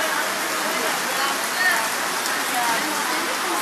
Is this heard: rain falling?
yes